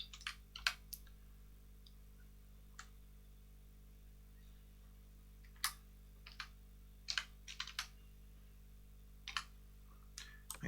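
Keys clatter on a computer keyboard in short, scattered bursts of quick clicks over a steady low hum, quiet and close, with pauses between words.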